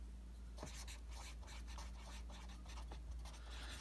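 Pen or pencil writing a key on paper, a close, soft run of scratchy strokes repeating in quick irregular bursts over a low steady background hum.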